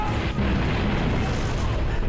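A dense, continuous roar of booming video game explosions in Halo: Reach, with no pause, loud and rumbling throughout.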